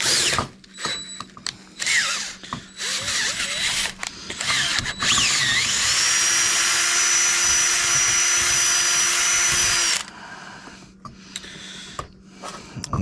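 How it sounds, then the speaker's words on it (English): A power drill with a 5/16 bit whirs in short bursts while drilling out holes in a mower deck, then runs steadily at high pitch for several seconds before spinning down, with clattering handling noises around it. "we're going to start with drilling these holes out, and this is a 5/16 bit."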